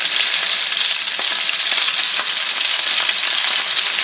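Chicken skin pieces crisping in a pan for poulet au vinaigre give off a loud, steady, dense sizzle with faint spattering ticks throughout, and no voices.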